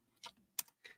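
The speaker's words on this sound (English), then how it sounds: "Look at me typing all fast." Quick taps on a computer keyboard, three separate clicks spaced apart, quiet and near in a silent room.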